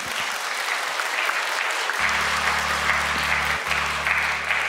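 An audience at a school battle stage contest in Ukraine applauds performers, making a loud sustained wash of clapping. A low steady hum or music joins partway through.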